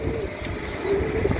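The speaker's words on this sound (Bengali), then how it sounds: "আমরা কবুতর তেমন ধরি না, যার কারণে কবুতরগুলো একটু ভয় পাইতেছে" Nervous, newly paired pigeons coo in a short burst, soft throaty calls at moderate distance over a faint background hum.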